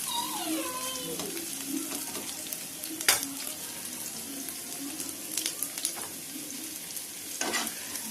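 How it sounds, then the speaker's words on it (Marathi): Onion fries in oil in a pan while cooking kothimbir vadi rassa, a soft continuous sizzle with occasional clinks and scrapes, fairly quiet and close. "असं कांदा टाकायचा तेलामध्ये, छान असं लाल होईपर्यंत भाजून घ्या कांदा।"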